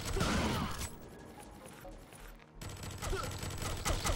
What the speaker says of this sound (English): It goes without saying that a shotgun has close range advantages